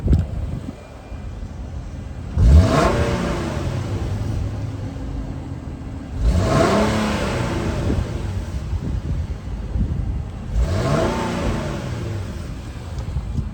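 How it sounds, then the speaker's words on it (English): Rear exhaust of a warmed-up 2015 Infiniti Q50 with 105k miles: three separate revs climbing to around 4,000 RPM and dropping back, a close, loud rising roar each time between stretches of steady idle and light wind noise. "let's go ahead and give it some revs since it is warmed up anyways"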